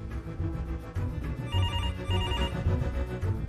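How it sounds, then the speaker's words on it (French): A telephone rings in an apartment in Besançon, repeated electronic ring bursts in a steady pattern, fairly close and clear, with no talking. "Dans son appartement de Besançon, François n'en peut plus d'entendre son téléphone sonner."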